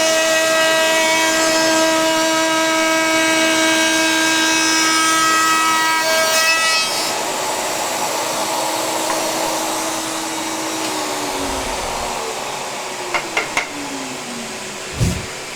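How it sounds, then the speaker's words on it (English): A wood router makes a final pass across the top of a desk tidy with dust extraction running, a loud steady whine that drops in pitch and fades toward the end, followed by a few sharp knocks. "router back on, extraction, and this is our final pass across the top"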